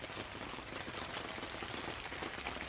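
Steady rain falls in Arizona, a soft, even hiss of drops with no distinct patter, low in level and continuous throughout, with no voices.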